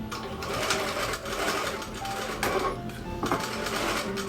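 A sewing machine runs steadily, stitching a narrow seam with a 0.5 centimeter allowance over a raw edge, its rapid mechanical chatter close and continuous with small bumps in speed.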